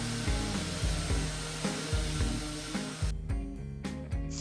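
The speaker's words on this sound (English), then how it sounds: "I'm just going over the entire thing with some 320 grit sandpaper just to make this very silky smooth." A round wood piece is hand-sanded with fine 320 grit sandpaper, heard as close, regular back-and-forth scratchy strokes, roughly three per second, with a short pause partway through.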